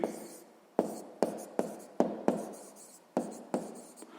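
Pen writing out a sixth-grade math solution for a circle's area, a series of about nine sharp strokes and taps on paper at an irregular pace, close and fairly quiet, with no voices.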